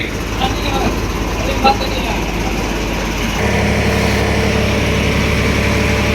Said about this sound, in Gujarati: મિત્રો ટ્રેક્ટર આવી ગયું છે ભરતી નો જોવા